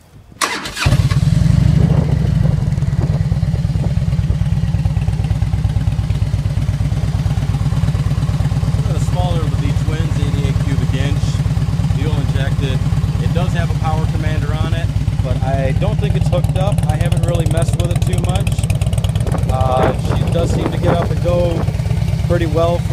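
A 2000 Harley-Davidson FLT Ultra Classic with a fuel-injected engine cranks and fires, then settles into a steady, loud, loping idle that runs throughout, with some light clatter and someone talking over it.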